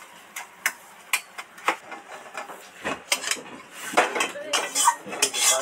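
Mustard oil being spread by hand across a metal plate, heard as a string of light, sharp metallic scrapes and taps in an irregular rhythm, close and fairly quiet, with no talking.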